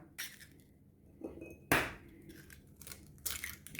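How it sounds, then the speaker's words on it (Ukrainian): A few sharp cracks and crunches of eggshells against a bowl, with small clinks and a wet drip, close and quiet, no talking. "Вбиваємо яйця."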